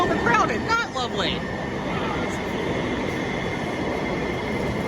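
Interior of a crowded Amtrak all-electric coach train on a game day, a steady rolling rumble and rail hum with brief wheel squeals at the start and murmuring passenger voices underneath.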